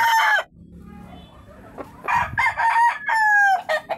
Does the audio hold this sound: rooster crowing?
yes